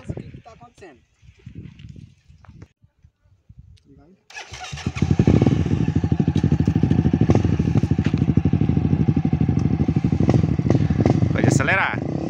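Honda CRF 250F dirt bikes start up and rev hard in a drag race, a loud continuous engine roar kicking in after a few seconds of quiet talk and lasting to the end.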